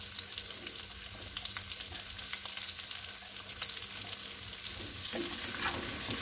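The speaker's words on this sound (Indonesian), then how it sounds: "Kita oseng-oseng sampai bawang-bawangannya harum dan berwarna agak kecoklatan." Shallots and garlic stir-frying in a pan until fragrant, giving a steady close sizzle with light scraping stirs throughout, slightly louder toward the end.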